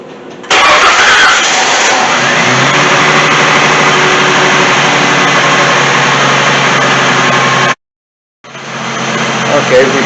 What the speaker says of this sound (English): we should see the least impact on how the motor runs when we pull these 2 wires